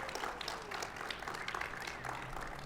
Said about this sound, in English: Let's give another round of applause to Chunyan